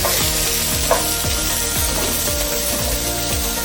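Onions fry in a pan with pork, a loud, dense, continuous sizzle up close with rhythmic scraping strokes of stirring throughout.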